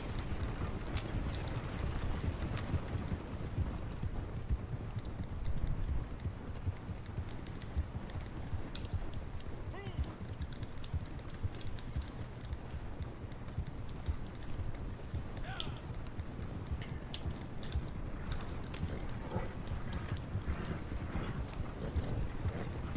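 Horse hooves clop steadily while pulling a wagon in a Western open-world video game, a continuous brisk rhythm of close, dry hoofbeats with faint creaks and ambient game sounds throughout, no voices.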